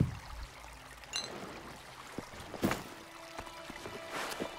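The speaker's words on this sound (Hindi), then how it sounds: "कितना मस्त पानी की आवाज आ रही है, पानी बह रहा है" Water flowing in the video game ELEX II makes a soft, steady trickling stream, quiet and somewhat distant, with a few faint splashes and thuds over it.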